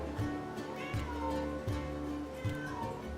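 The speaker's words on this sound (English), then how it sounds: "My cat's really frisky." A frisky pet cat meows repeatedly, four short close calls spaced about three quarters of a second apart, heard over a low steady room hum.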